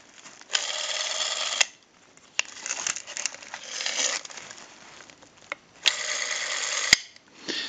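A Western Electric 500 rotary telephone's dial mechanism, opened up for repair, turning with two bursts of close whirring, clicking buzz separated by quieter mechanical handling noises.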